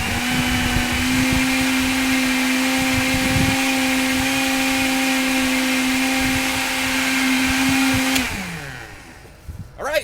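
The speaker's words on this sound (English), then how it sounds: "let's finish up, blend this rest up, and I'm ready to drink this orange spinach juice" An Omega B2100 1 HP blender runs loud and steady, whirring through orange spinach juice for about eight seconds before winding down and stopping.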